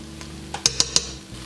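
Garlic is added to a skillet of browning onions and kielbasa: a few light clinks of a metal utensil against the pan, three quick distinct taps, over a faint background.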